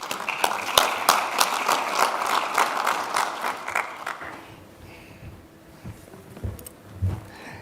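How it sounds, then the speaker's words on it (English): An audience at an international conference gives a burst of applause, clapping strongly for about four seconds before fading away into quiet room noise with a few scattered claps. "Let's give them a great applause, please."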